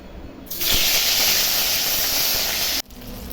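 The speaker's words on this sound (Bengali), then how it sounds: "কড়াই তেল গরম হয়ে গেছে, এখন মাছগুলা ভেজে নিচ্ছি।" Rohu fish, rubbed with turmeric and salt, goes into hot oil in a wok. A loud, close hiss bursts out at once, holds steady for about two seconds, then cuts off abruptly.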